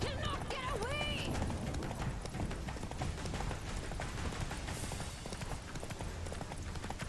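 Roach gallops in Witcher 3 during a chase, rapid hoofbeats drumming steadily throughout, with a short whinny at the start, all dense and close under a continuous game soundscape.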